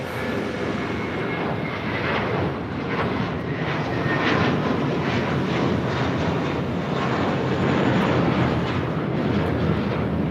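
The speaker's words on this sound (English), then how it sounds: "taking off to West Palm Beach. The 7-year-old A321, JetBlue Airways 2524" A seven-year-old JetBlue Airbus A321 airliner taking off from LAX, its jet engines giving a loud, sustained roar that swells slightly as it climbs, with no talking.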